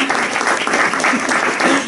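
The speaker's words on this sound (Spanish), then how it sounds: "Si puedo pedir un aplauso para Luna Miguel." An audience applauds during a literary event in Barcelona, honoring author Luna Miguel, with steady, dense clapping throughout that stays fairly loud and close, with faint voices mixed in.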